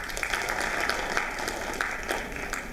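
Classroom audience applauding to cast a vote, a steady broadband wash of many hands clapping at moderate distance for a few seconds, with no talk over it.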